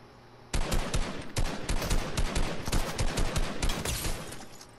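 Video-game gunfire comes in a sudden, loud burst of rapid automatic shots that keeps up almost the whole time with only brief gaps, and no one talks over it.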